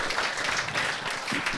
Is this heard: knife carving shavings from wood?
no